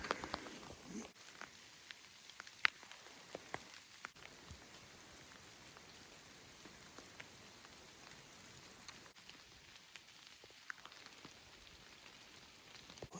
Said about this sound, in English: The wind is very swirly and it's raining.